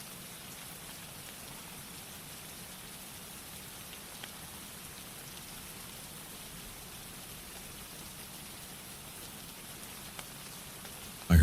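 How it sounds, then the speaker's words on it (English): Steady rain hits a rooftop in a continuous, even hiss of drops, loud and unbroken with no voices over it. "I heard the rain hitting my rooftop."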